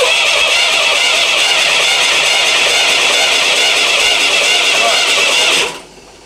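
A tractor engine starting inside a garage roars loudly and continuously, a dense and harsh running noise that cuts off abruptly just before the end.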